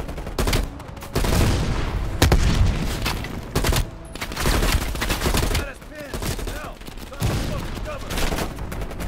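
Gunfire in Call of Duty: Black Ops Cold War, bursts of loud rapid shots and heavy fusillades crackling close by, broken by brief lulls, with a voice speaking at moments among the shots.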